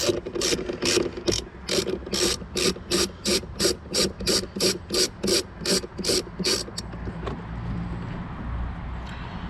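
Steady, rapid clicking of a ratchet socket wrench loosening a battery cable nut on a 2009 Volvo S80. The near, regular bursts run for several seconds, then give way to quieter handling noise.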